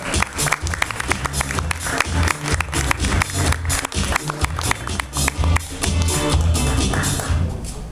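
A comedy theater crowd claps for a comic taking the stage: dense, sharp hand-claps from many people, loud and close, with scattered individual claps standing out before the applause thins and fades.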